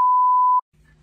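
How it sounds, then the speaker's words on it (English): A single steady censor beep, a pure electronic tone lasting about half a second, bleeping out a curse word, then cut off abruptly, followed by faint low background rumble. "I'm just gonna beep that a bunch"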